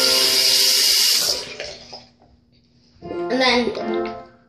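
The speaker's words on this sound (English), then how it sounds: "So what you do is turn on the water." Water runs from a sink faucet during handwashing, a loud steady rush that cuts off partway, then someone speaks over a quieter background.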